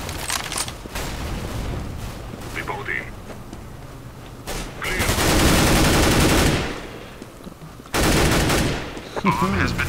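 Rapid gunfire in Counter-Strike: Global Offensive, loud bursts of automatic fire and single shots in dense stretches, with voices talking between and over the shooting.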